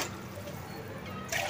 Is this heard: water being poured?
yes